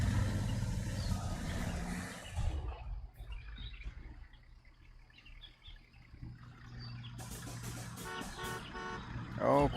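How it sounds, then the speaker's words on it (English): Truck horn honking in the Construction Simulator video game, loud at first and then cutting off, followed by quieter ambient game sounds with bird chirps and another horn-like tone near the end. "This guy with the honking is annoying."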